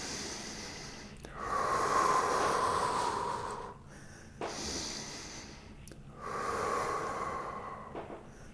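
Deep, slow breaths held through a yoga chest-opening stretch during handstand strength training, two long breathing cycles, each a drawn-out breath alone and close, separated by brief quiet pauses.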